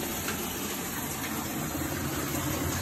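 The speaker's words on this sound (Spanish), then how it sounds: "Yo la voy a poner a que vaya llenando del agua" A GE washing machine fills with water in a steady, constant gush and hum, a dense unbroken rushing sound with no talk over it.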